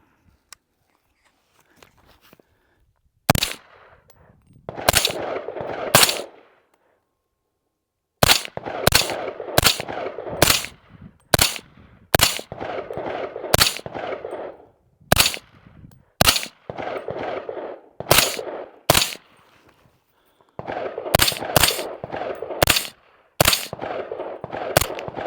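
A Blackout Defense pistol in 300 Blackout, fitted with a Huxworks 7.62 titanium flow-through suppressor, fires a string of sharp, loud suppressed shots at an irregular pace, with short pauses between bursts and gaps for reloading.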